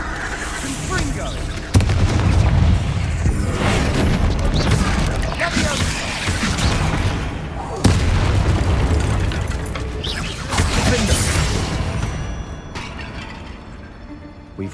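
Confringo fire spell blasts in a Harry Potter video game fight against a spider, a pair of heavy booming explosions a few seconds apart, each leaving a long rumbling crackle that fades out.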